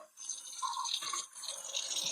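A repaired kitchen faucet runs filtered water in a steady, soft hiss with light splashing close by, with no voices.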